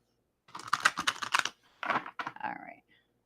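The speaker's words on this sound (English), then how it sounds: "Okay, one more shuffle." A deck of playing cards being shuffled during a card reading, two quick close bursts of rapid riffling clicks separated by a short pause.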